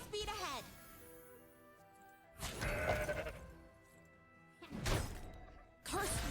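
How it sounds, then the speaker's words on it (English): Mountain Goat card in Legends of Runeterra releases a clear, wavering goat bleat, followed by heavy impact thuds and game effects, with someone talking over parts of it. "So I'll play this Mountain Goat."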